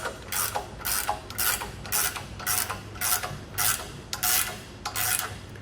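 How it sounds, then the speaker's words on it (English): Wrenches tighten a washer and lock nut onto a CE Smith I-beam clamp on a boat trailer, producing a close series of about eight rhythmic ratcheting clicks in bursts, with no voices. "Grab our wrenches. Just begin to tighten that down."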